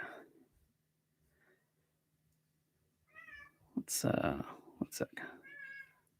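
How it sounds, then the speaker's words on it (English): A house cat at a door gives a few short meows near the end, close by, mixed with soft scratching and a brief spoken word, after a quiet stretch at the start. "My cat is scratching at the door."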